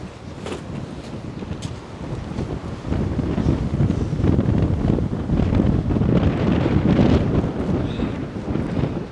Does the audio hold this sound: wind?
yes